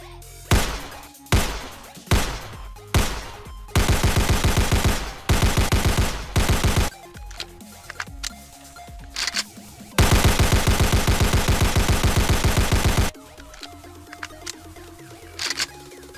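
Gunfire and reload effects in an indie multiplayer FPS video game: several sharp single shots, then long rapid bursts of automatic fire broken by quiet mechanical reload clicks, loud and close, with no talking.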